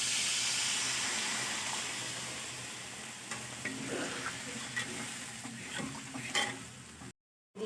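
Potatoes frying in spiced oil in a pan for a brinjal and pangas fish curry, a steady close sizzle with scraping stirring strokes and clinks of the spoon; no talking.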